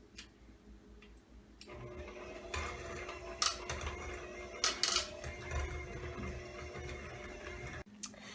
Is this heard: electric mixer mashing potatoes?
yes